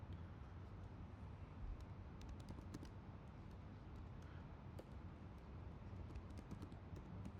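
Code being typed on a computer keyboard during a Unity programming lecture, heard as faint, quick key clicks in irregular bursts over a low background hum.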